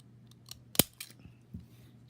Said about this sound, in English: if you have the scallop scissors, it's just perfect for this size of bow. You just do one cut